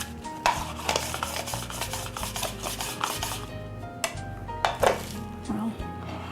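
Two pounds of peeled potatoes sliced on a mandoline, a rapid close rhythm of rasping strokes with a few sharper knocks against the board, carried over a low steady hum.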